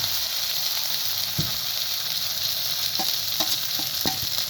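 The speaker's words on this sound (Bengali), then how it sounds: "তারপরে লঙ্কা বাটাটা সাথে সাথে মিক্স করে নিব।" Chili paste frying in a pan while being stirred, a continuous close sizzle with a few sharp scraping knocks of the spoon against the pan near the end.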